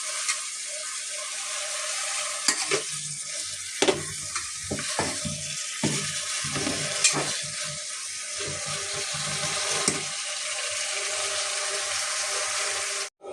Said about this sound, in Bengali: এটা নাড়িয়ে একটু জল দিব, জল দিয়ে ঢেকে দিব